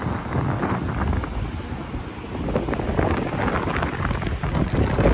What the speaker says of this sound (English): You guys can see how hectic the wind is.